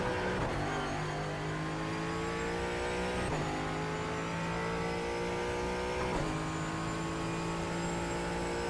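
A Ford Mustang GT4 race car engine in iRacing drones loud and steady at high revs, with pitch sweeping upward through gears and two short dips at the shifts, heard alone without talk.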